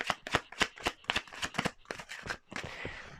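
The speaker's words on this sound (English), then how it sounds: "Let's give it another shuffle." Tarot cards are shuffled by hand in quick, rhythmic bursts of crisp papery riffles, close and clear with no talking.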